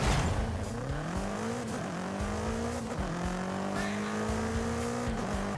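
A BMW M5 CS sedan lapping in Forza Horizon 5, its engine note rising and dropping through repeated gear shifts and cornering, with occasional tire noise, loud and continuous.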